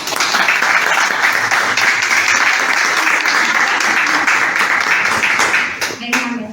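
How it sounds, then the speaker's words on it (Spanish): Loud, dense applause from an audience at a school presentation for third-year students, sustained steadily for several seconds before tapering off abruptly at the end. "retorno el fuerte aplauso para los chicos de tercera carrera"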